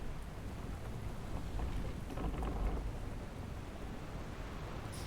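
Rain and thunder in the video game Guild Wars 2 during a sea voyage aboard ship: steady heavy rainfall with a low rumble of thunder swelling midway, continuous and moderately loud, without talk.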